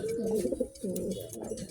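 An imported racing pigeon gives a few soft, low coos close by, against a quiet background.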